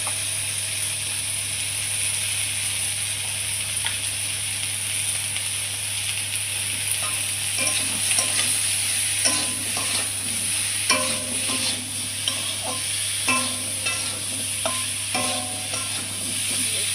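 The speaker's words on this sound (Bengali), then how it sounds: "কপিটা ভাজা ভাজা হয়ে গেছে, তারপরে এখন হলুদ লবণ দিয়ে দেবো।" Cauliflower fries in oil in a pan, giving a steady, close hiss with a constant hum underneath. Scraping stir strokes and soft clatters come in repeatedly during the second half.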